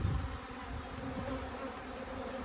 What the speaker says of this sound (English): So this is by far the busiest hive that I've opened.